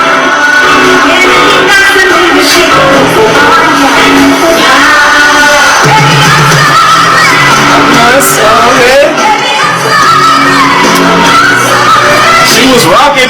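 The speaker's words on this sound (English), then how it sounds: "Look at that crowd, man. That crowd look crazy." A large concert crowd roars and cheers with shouts and whoops, loud and continuous, with music and voices mixed in throughout.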